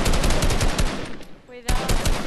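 Automatic gunfire from the video game Fortnite rattles loudly in rapid bursts, breaking off briefly before resuming.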